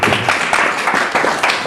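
An audience applauds, a dense, loud, steady patter of many hands clapping together throughout.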